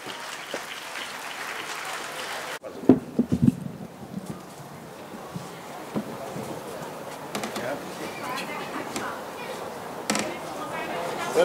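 An audience at a folk music festival welcomes a Georgian folk song group with applause. The clapping is moderately loud and mixed with crowd noise, and a voice speaks over it.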